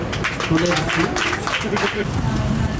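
An audience applauds the American ambassador at a music school in Ouagadougou: steady, dense clapping throughout, with crowd chatter and voices mixed in.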